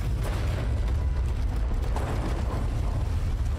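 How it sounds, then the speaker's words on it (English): A huge explosion in the Dying Light 2 video game, a loud, sustained roaring rumble heavy in the low end that fills the whole stretch without letting up, with no talking over it. "Fucking ginormous explosion here."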